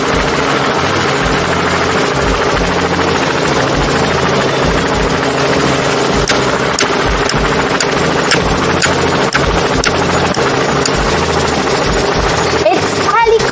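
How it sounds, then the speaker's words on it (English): A helicopter drones continuously with a steady, loud engine roar and rapid rotor thumping throughout, close and unbroken, with no voices. "It's helicopter."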